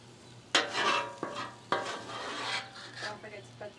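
Chopped Philly cheesesteak sausage frying in a pan, with a steady sizzle under sharp stirring and scraping strokes of a utensil against the pan, close and fairly loud.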